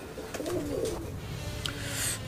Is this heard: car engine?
no